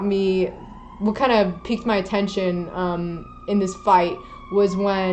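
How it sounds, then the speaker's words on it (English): An emergency vehicle's siren wails steadily in the background while passing as a person talks over it in the foreground. "sorry about the siren"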